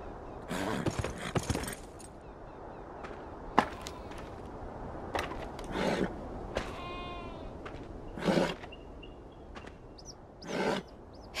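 Horse sounds from the video game Beyond: Two Souls, with a single whinny near the middle among soft hoof and movement noises over a quiet, steady background.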